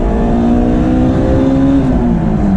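A Honda S2000 AP1 engine revving hard toward 8,000–9,000 rpm, a loud, close, continuous high-pitched wail with rising and dipping tone and no voices over it.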